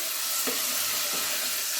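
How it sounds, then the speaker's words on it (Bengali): Chicken pieces frying and being stirred in hot oil for a korma, giving a steady bright sizzle with a couple of soft scraping stir strokes, close and without speech. "আপনারা ভালো করে চিকেনটা এইভাবে তেলের মধ্যে কষিয়ে নেবেন।"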